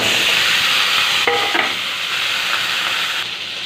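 Potatoes fry in a pan with a continuous sizzling hiss, broken by a few short scraping stirs near the middle.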